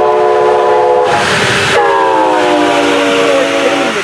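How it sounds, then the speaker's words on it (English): Two Brightline trains meet and pass each other near Kissimmee. A loud, close horn sounds in long sustained blasts while the rush of the passing trains fills the background. "Two 4 o'clock trains have met each other and are safely on their respective ways."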